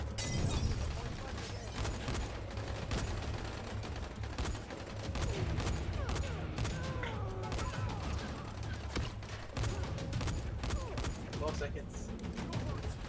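Sharp gunshots snap repeatedly in Dying Light while an enemy closes in, irregular bursts and crackles over a low game rumble, mixed under a player's talking.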